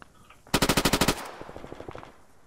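A rapid burst of about ten machine gun rounds in a military video game, loud and close, followed by fainter scattered distant shots trailing off.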